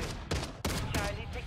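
Rapid bursts of automatic fire from an M13C assault rifle in Modern Warfare III, several loud close volleys in quick succession with brief gaps between them.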